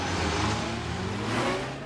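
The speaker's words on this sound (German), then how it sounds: "Prüfung des Bremswegs aus 100 Kilometern in der Stunde zum Stillstand." A 1975 Citroën CX 2200 braking hard from 100 km/h to a standstill on a test track, a steady close road and engine roar with tyre rumble that eases slightly toward the end, no voices.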